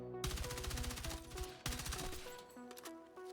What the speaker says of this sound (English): It's a very fast firing carbine.